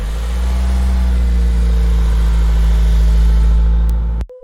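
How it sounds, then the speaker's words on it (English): A car engine rumbles steadily and loud, holding a low drone with a slight rise before cutting off abruptly near the end; no voices. "Suddenly, she hears the sound of a car coming from a distance."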